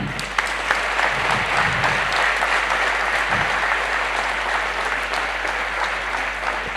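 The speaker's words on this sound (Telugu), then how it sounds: "మీరు ఇంకొకసారి నా కోసం చప్పట్లు కొట్టాలి మా గురువు గారికి పెద్దగా." Audience at a national vegetarian conference applauding, a sustained dense wash of clapping lasting several seconds at even loudness, with a few voices faintly mixed in.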